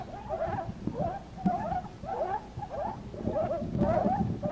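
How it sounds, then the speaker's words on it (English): Sand squeaks underfoot in a rhythmic series of short, chirping squeals, one per step, repeating steadily and fairly close. "People squeaking their feet in the sand,"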